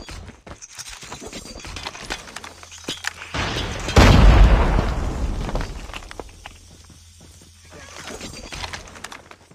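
A frag grenade in Call of Duty Mobile goes off in one loud, close blast midway through, with debris tailing off. Scattered gunfire and footsteps from the match sound before and after it.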